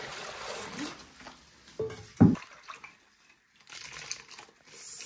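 Water poured into a container of freshly picked golden oil mushrooms with salt for washing, heard as a short splashing pour with a sharp clatter midway, then quieter rustling and trickling that rises again toward the end.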